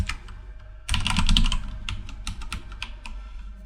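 A password is typed on a computer keyboard: a sudden flurry of close, rapid key clicks, then sparser, separate keystrokes tapping out at an uneven pace.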